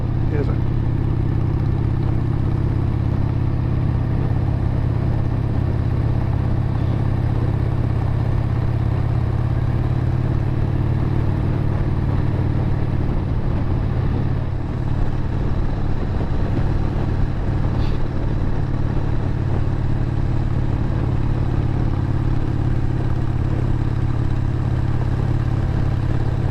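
A 1997 Harley-Davidson XLHS Sportster engine running while the bike rolls along, a steady low rumbling drone with wind noise, and a rider talking over it for much of the time.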